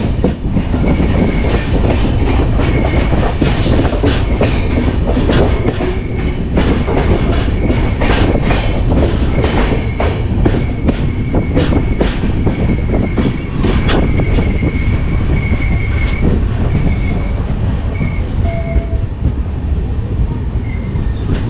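The Mandovi Express rolls into Khed railway station with a steady loud rumble, rhythmic wheel clatter and faint squeals, heard from on board and continuous throughout.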